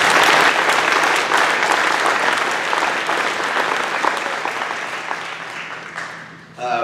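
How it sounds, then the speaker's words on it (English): Audience applause at a high school athletic banquet, PHS 2022: a dense, steady wash of many hands clapping that carries on for several seconds and then tapers off at the end. "Let's give them a round of applause."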